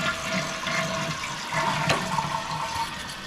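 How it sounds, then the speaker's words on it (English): A Mansfield toilet flushes, water rushing out of the tank and then trickling as the tank begins refilling, moderately quiet and close by. "then we'll flush it and see if it takes off"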